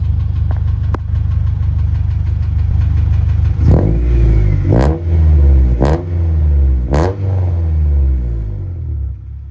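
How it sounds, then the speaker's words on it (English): A worn junk car engine idles roughly, then is revved in several sharp bursts that rise and fall, loud and close, with a knock in the motor. "the knock goes away when you rev it, but, you know, and then it comes back."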